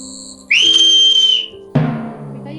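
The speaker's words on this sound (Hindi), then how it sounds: "ये सीटी की जैसी आवाज आई नहीं?" A single sharp, high whistle sounds for about a second, close and loud. A thump and a short clatter follow, with no talking.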